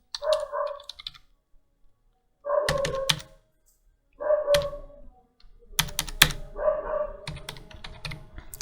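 An application number is typed on a computer keyboard in short bursts of quick key clicks, separated by pauses of near silence, with a few sharper taps toward the end.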